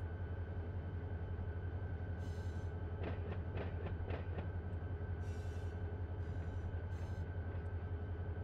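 Freight train rolling in Run 8 Train Simulator: a steady low rumble runs throughout, with a cluster of clanking wheel knocks in the middle and brief bursts of hiss.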